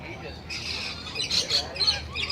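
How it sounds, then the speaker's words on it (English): A pet bird lets out several sharp, close squawks in quick succession, with faint human voices in the background. "This is my bird."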